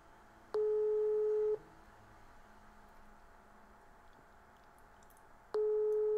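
During a prank phone call, a ringback tone plays on the line: two long, steady tones about four seconds apart over a faint line hiss, with no voices.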